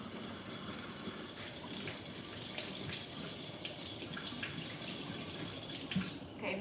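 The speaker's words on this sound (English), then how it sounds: "make sure to rinse off your mushrooms because they always have dirt on them" Mushrooms rinsed under a running kitchen tap, a steady close splashing hiss of water with brief louder spatters, continuous with no talking.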